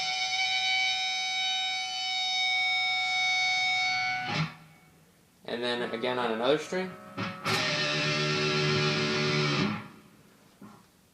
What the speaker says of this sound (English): Pinch harmonics are played by fretting the desired string